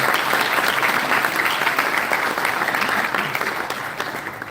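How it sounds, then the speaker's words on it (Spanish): Dense, steady applause from a conference audience welcoming an inaugural lecture speaker, filling the space evenly and tapering slightly toward the end. "lo recibimos también con un gran aplauso"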